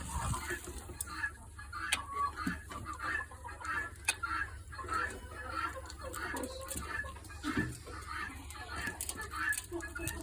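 Small chickens cluck repeatedly in a busy, steady chatter at close range, with a voice speaking now and then over the flock.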